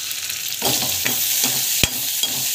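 Vegetables sautéing in a hot pan, a steady close sizzle with repeated scraping stirs and one sharp utensil knock partway through.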